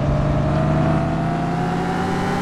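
A car engine drones loudly and steadily close by, its pitch holding and then edging slightly upward as if revving, at a drag racing event.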